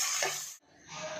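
Sliced onions fry in a pan, giving a soft, continuous sizzle with a brief stir-like rustle and a momentary drop before the frying hiss resumes, quiet and close.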